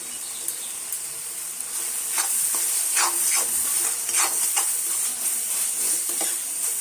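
Prawns fry in a masala with a steady bright sizzle, broken by repeated scraping strokes of a spatula stirring the pan, close and continuous with no talk.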